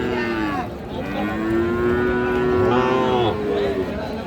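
A Sahiwal heifer lows at a busy cattle market, two long drawn-out moos close and loud over a steady crowd murmur.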